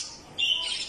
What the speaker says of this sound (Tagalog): may ibon pa po siya doon guys